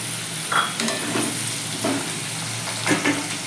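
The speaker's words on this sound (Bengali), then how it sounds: "আলু আর পেঁয়াজ ভাজতে ভাজতে অনেকটাই সেদ্ধ হয়ে গেছে" Diced potatoes and onion fry in oil in a pan for aloo posto, a steady close sizzle with brief bursts as the pieces are stirred.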